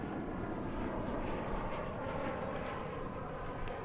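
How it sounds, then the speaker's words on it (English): An American Airlines Airbus A319 lands at DFW airport, producing a continuous broad engine rush at moderate distance, steady and unbroken, with no talk. "Here we have an American Airlines Airbus A319 coming in from Austin, Texas."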